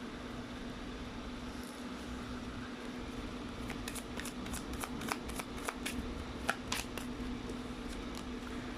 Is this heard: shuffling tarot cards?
yes